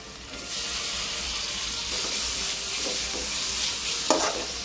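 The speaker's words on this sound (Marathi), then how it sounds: "सगळं आता मिक्स करून घेतलं।" Tomatoes are stirred into pav bhaji masala of ginger and garlic frying in a pan. A steady, loud sizzle runs throughout, with a few soft spatula scrapes and a sharper knock near the end.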